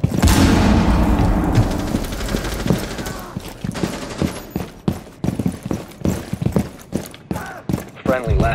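Frag grenade blast followed by rapid bursts of gunfire in the video game Rainbow Six Siege, a loud boom up front, then many sharp, close shots, with a voice talking among them.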